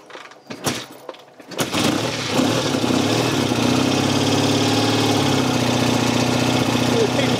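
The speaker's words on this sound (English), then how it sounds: "I'm going to give it choke and I'm going to turn the ignition on and see if it'll go" A 1965 BSA A65 Lightning Clubman motorcycle on choke on a cold day, a few clicks followed by the twin engine catching after a brief crank and settling into a loud, steady, throbbing idle close by.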